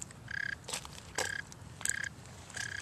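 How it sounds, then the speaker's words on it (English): A frog croaks outdoors in a repeated series of short, rhythmic calls, moderately faint against low background noise. "Do you hear the frog?"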